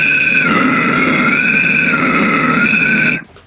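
A vocalist performs a distorted toilet-bowl scream on a U and E vowel shape, one sustained gurgling, grinding roar for about three seconds that cuts off abruptly.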